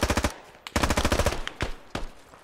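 Rapid automatic gunfire in a video game squad firefight, loud and close, coming in several sharp bursts separated by short pauses.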